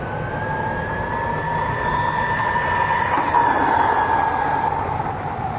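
An MJX Hyper Go brushless 3S LiPo 1/12-scale RC truck runs at speed off road, giving a steady high-pitched motor whine that rises and holds, with no talking.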